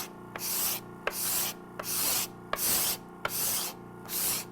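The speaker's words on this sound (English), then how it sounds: "Let's do some scraping." A hand scraper drags across a surface held down on a vacuum press, six steady rasping strokes in a regular rhythm with short pauses between, close and clear with no talking.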